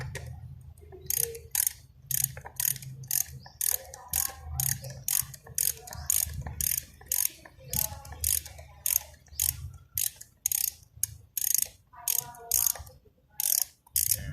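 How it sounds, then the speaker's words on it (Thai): A ratchet wrench loosens the nuts holding the air filter cover on a Yamaha Mio 115 scooter, giving a steady run of close, crisp ratcheting clicks in quick bursts throughout, with no talk. "ในระหว่างที่พี่เขาคลายน็อตยึดฝา ครอบไส้กรองนะครับ"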